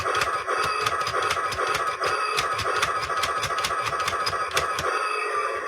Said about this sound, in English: you get the sound effects as they move backwards and forwards.